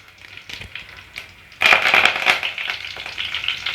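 Curry leaves dropped into hot oil alongside cumin and dried red chillies for dal sambar, a soft crackle that bursts into loud, close sputtering and spitting, staying busy to the end.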